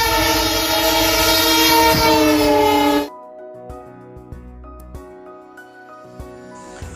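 A train passes on the Seohara railway line in India, its loud, sustained horn blast sounding for about three seconds before cutting off, leaving a quieter stretch of sparse clanks and clicks.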